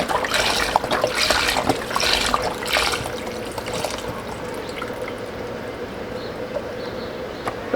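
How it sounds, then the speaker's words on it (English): Seafood stock, 64 ounces of it, pours steadily into a cooking pot, a close, continuous splashing rush that eases after a few seconds into a quieter trickle. "So I'm adding my seafood stock now"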